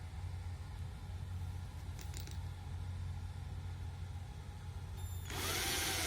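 A SPARKY cordless battery drill whirs steadily at low level, with a few faint clicks, then a louder burst of noise near the end as it tightens.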